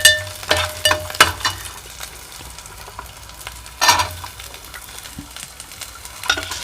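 Peeled whole shallots sautéing in a pan with garlic and curry leaves for a drumstick and garlic kuzhambu, a low continuous sizzle broken by several sharp scraping stirs of a spoon.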